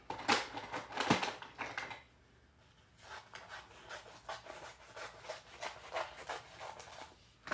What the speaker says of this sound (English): I'm going to take my scissors and just trim off just a little.